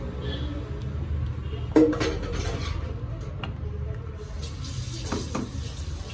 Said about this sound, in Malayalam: വിളമ്പുന്ന പാത്രത്തിലോട്ട് മാറ്റി വെച്ചു.